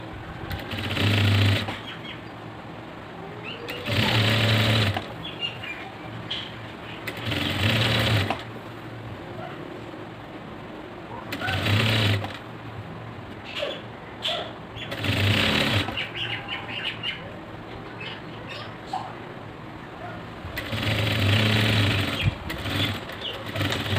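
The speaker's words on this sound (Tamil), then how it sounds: "இதுக்கும் வந்து பாட்டம் சைடு 1/4 மடித்து ஸ்டிச் பண்ணுறேன்" A sewing machine stitches a folded 1/4-inch bottom hem on a chudidhar in repeated short bursts of motor whir, with quiet pauses between the runs.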